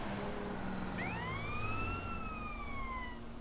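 A police car siren in a GTA video game sweeps up and down in a loud, clear wail over steady background engine noise, with no talk.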